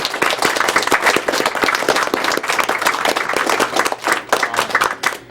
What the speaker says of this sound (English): so she deserves a big round of applause.